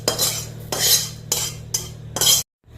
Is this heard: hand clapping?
no